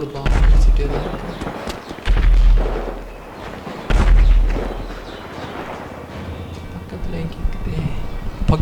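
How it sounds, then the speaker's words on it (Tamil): Explosions go off somewhere nearby, heavy booming blasts recurring every couple of seconds with rumbling tails, loud and close amid continuous background noise. "பக்கத்தில் எங்கேயோ வெடிச்சிட்ருக்கு."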